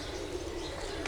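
A pigeon coos briefly and softly, a low murmuring call heard faintly in a quiet space.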